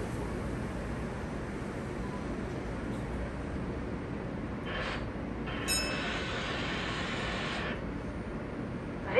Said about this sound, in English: The Manhattan-bound N local train.